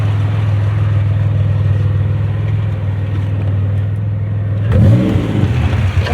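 Pontiac Grand Am with a supercharged 3800 engine swap and an exhaust leak idling with a steady low drone, then revving in a loud rising and falling burst near the end, close up.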